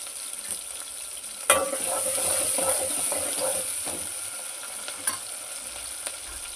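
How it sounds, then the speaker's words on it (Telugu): Onions and green chillies, with dried red chillies, sizzle steadily in hot oil for upma, with a sharp clatter of a spoon against the pan and scraping stirs over a constant hiss. "ఉల్లిగడ్డ, పచ్చిమిర్చి అన్నీ వేసుకొని వేగనీయాలి కొద్దిసేపు."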